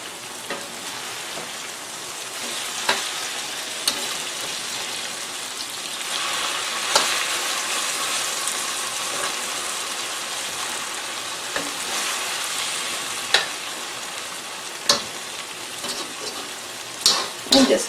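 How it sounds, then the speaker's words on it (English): Buttermilk-battered okra frying in Crisco in a pan on a stove, a steady close crackling sizzle throughout with occasional sharper pops and spatters. "And just keep letting it fry."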